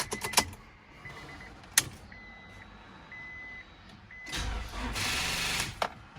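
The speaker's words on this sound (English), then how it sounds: "Feeling this car is not gonna start." A Honda Accord sounds a few short electronic chime beeps, then a loud, roughly one-second burst of starter cranking that dies without the engine catching.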